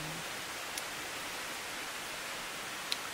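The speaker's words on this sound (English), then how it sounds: "just enjoy the sound of the creek" Steady, broadband rushing of flowing water fills the scene evenly, an unbroken wash of sound with a couple of tiny clicks.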